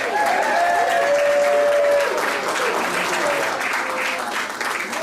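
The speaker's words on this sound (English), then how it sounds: "Round of applause please, folks." Audience at an evening performance breaks into sustained, loud applause, dense clapping filling the whole stretch with a few faint whistles or tones threading through.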